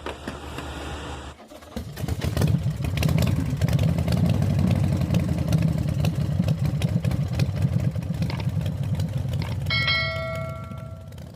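A 2017 Mitsubishi Pajero with a faulty injector idles roughly and misfires: a steady, close low rumble with an uneven pulse, which starts after a brief pause, and a chime dings near the end.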